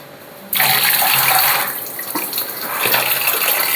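Water pours from a tap into a bucket, starting abruptly and then running as a loud, steady, close splashing gush that continues to the end.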